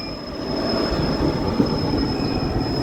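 A North Central Railway WAG7 goods train locomotive gives off a steady, close rumble with wheel noise and a thin, constant high whine, holding an even level throughout.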